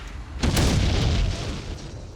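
A grenade goes off in a sudden close, heavy boom that rolls into a rumbling blast lasting about two seconds, with no talking.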